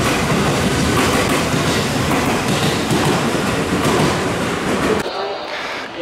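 A 12-car Special Rapid train pulls out of a Japanese station at night, a loud steady rumble and rattle of wheels on rails that drops away suddenly near the end, with a voice talking over it.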